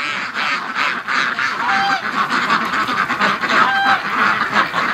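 Wintering ducks and geese outdoors make a continuous chorus of honking and quacking birds, loud and close, with no talking.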